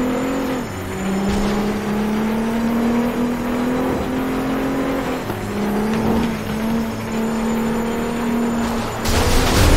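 Flatout 2 race cars rev and race as a pack, with a loud sustained engine drone that rises and falls under gear changes, plus whooshes of cars passing nearby.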